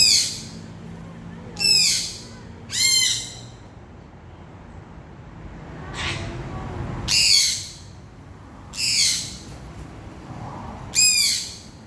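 A pet sun conure parrot giving its loud morning calls indoors, six sharp screeching bursts spaced a second or two apart over quiet room tone.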